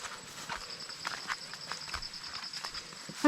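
Slow, soft hoof steps of a carabao (water buffalo) walking on an overgrown mountain trail in the Philippine countryside, faint irregular thuds under a steady outdoor hiss, with a louder knock at the very end.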